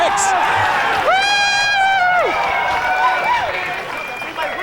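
Crowd at the 2008 World Series of Poker Main Event cheering and whooping loudly, with a drawn-out shout rising over steady crowd noise and voices.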